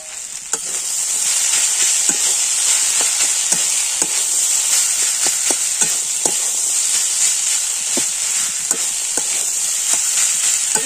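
Mashed potato mixture with ginger and cashew paste being stirred in a hot pan for vegetable cutlets, a constant loud sizzle broken by frequent sharp scraping and tapping spoon strokes in an irregular rhythm, up close.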